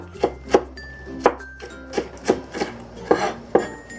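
Onions being chopped with a sharp knife on a board, a steady series of about ten crisp thuds at an even pace, close and distinct over a quiet hum, with no one speaking.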